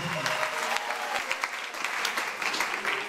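Audience applause fills a seminar hall in Libreville, Gabon: a dense, steady wash of many hands clapping, loud and continuous throughout.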